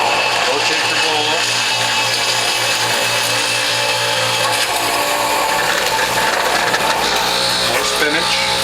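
A Norwalk juicer's cutter grinds vegetables such as spinach and cucumber with a loud, steady whirring drone, the pitch shifting slightly as produce is fed in, with no talking.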